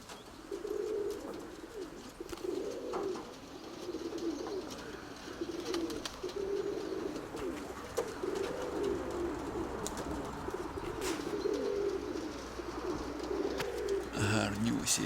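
Pigeons coo in soft, repeated low phrases throughout, close and steady, with a faint background hum and occasional rustling near the end.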